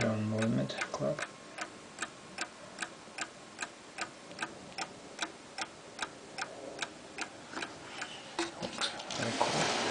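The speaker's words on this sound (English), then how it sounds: "German movement clock." A Franz Hermle Westminster chime clock with a German 340-020 movement ticks in an even, steady rhythm, about two sharp ticks per second, quiet and close, with chime tones fading at the start.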